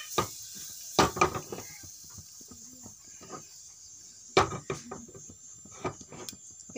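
Turmeric and cumin seeds stirred in a cooking pot for a rice dish, with a spoon clinking and scraping against the pot in several sharp, irregular taps over a quiet, sizzling background.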